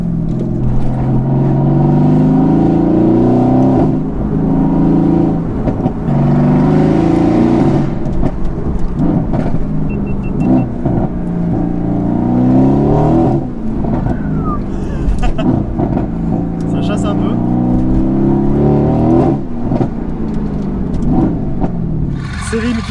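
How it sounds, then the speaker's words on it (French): A Mercedes-AMG GT S in Stage 2 tune, rated at 605 hp and 870 Nm, roars loudly and close while driving, its engine rising and falling in repeated surges of revs. "Le bruit de cette AMG GTS est impressionnant."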